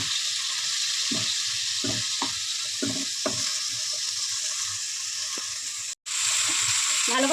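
Chicken masala sautéing in a pan, with a steady hiss of frying under repeated scraping strokes of a spoon stirring it, close and clear, broken by a brief cut near the end.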